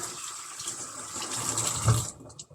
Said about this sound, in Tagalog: Maghugas ko ng isda.